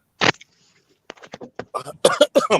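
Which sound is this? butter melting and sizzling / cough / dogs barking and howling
cough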